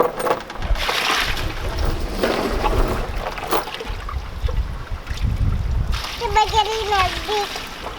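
Small aerator bubblers churn and splash near the surface of a bucket of compost tea, giving a steady, close watery gurgle and trickle with faint voices in the background.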